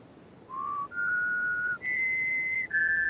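Whistled four-tone melody in the Return to Mysterious Island 2 video game, four clear rising and held tones, alone over quiet background hiss.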